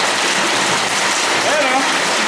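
Hail of ice pellets falls in Saudi Arabia, a dense, steady hiss and patter of ice striking surfaces, loud and continuous throughout.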